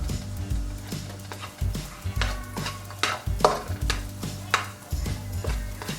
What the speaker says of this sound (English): I'm gonna put the onion in our pot.